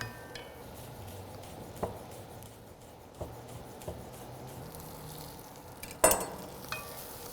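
Apples, hazelnuts and sage cook gently in a pan, a faint, low sizzle under occasional scrapes and light taps of a utensil against the pan, with one sharper clink near the end.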